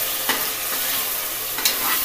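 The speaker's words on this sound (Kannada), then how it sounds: "ಈಗ ಟೊಮೊಟೊ ಫ್ರೈ ಆಗಿದೆ." Tomatoes fry in a pan for vangi bath, giving a continuous close sizzle with two or three quick stirring scrapes.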